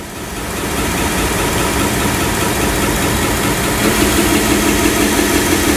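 A 1x30 belt knife sharpener grinder runs at speed, a steady close motor whir and belt hum that holds level throughout with no talking.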